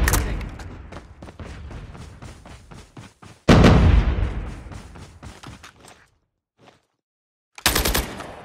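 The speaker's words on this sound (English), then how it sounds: "Cluster strike incoming." Rapid cluster strike explosions in Call of Duty Blackout pound out as a stuttering burst of thuds and cracks, then a massive loud blast that rumbles away into silence before another sharp impact hits.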